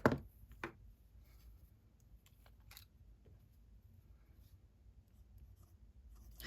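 A fountain pen with a medium nib writing cursive on test paper, giving soft, close scratching strokes in short irregular bursts, with a louder tap at the start.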